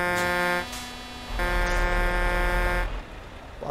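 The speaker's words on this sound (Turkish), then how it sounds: "Basıyor kornaya." A Scania S540 truck horn in Euro Truck Simulator blares in long, loud, harmonic-rich honks, one brief blast followed by a sustained one over the low engine rumble of a Kirkenes road drive.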